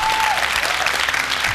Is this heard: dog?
no